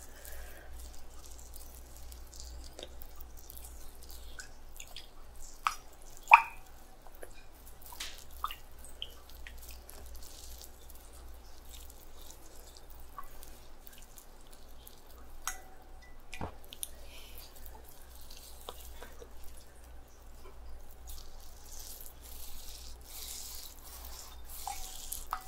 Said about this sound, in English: If you'd like, you can go ahead and start soaking your other hand in water.